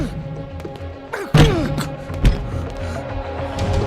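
Two heavy thuds strike a door about a second apart, the first louder and cracking, amid scuffling and background noise.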